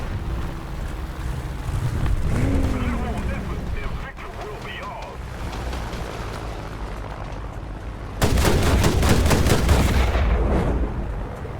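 Sd Kfz 222 armoured car's 20mm cannon in War Thunder, a rapid burst of loud repeated shots late on over a droning engine rumble, with a voice talking earlier.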